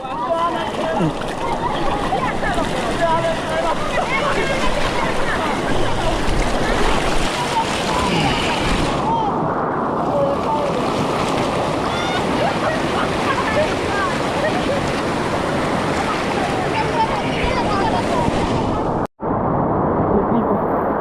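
A strong river roars continuously and loudly, a dense broadband wash that drops out briefly near the end.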